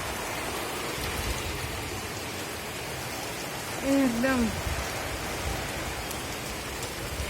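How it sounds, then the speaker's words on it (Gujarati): Heavy rain falls in a continuous, even hiss close by, with a brief voice cutting in partway through. "તો બરોબર જોરદાર વરસાદ ચાલુ થઈ ગયો છે"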